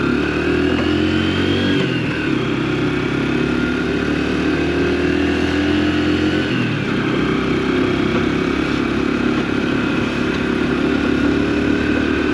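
An AJS Tempest Roadster 125 motorcycle engine pulls through the gears on a road ride, its mid-pitched drone continuous and loud, with a couple of audible gear-change dips early on and no voices.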